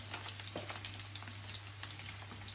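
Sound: prawns frying in hot oil

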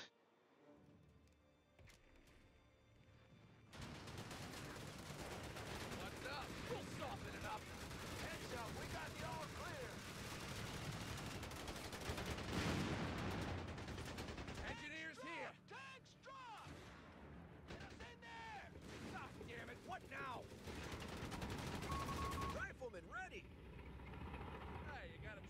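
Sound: gunfire from Company of Heroes 3 video game

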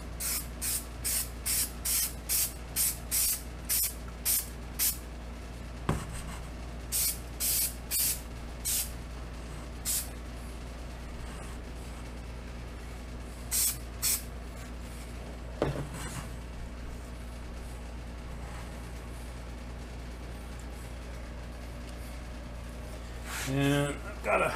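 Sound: spraying multi-purpose adhesive from can

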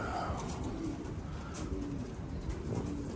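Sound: pigeons cooing

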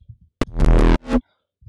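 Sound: hard-clip distorted sine wave bass in Vital synth

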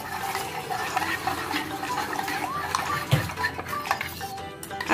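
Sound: water being mixed into tamarind juice for pani puri

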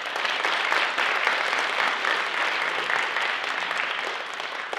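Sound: audience applause for the musicians

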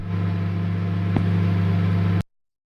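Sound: microwave oven running in The Convenience Store video game

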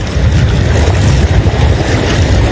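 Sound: strong south wind blowing while travelling by boat on a lagoon

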